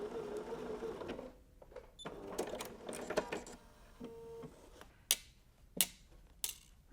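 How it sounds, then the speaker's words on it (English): Sewing machine stitching a self-binding receiving blanket to the end of a seam, a steady mechanical whir at first, then short bursts and sharp clicks as the stitching stops and restarts, close and fairly quiet. "Stitch all the way to the end,"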